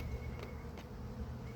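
A steady, low buzz of honey bees at the hive hums throughout, droning close by, with a couple of brief louder passes.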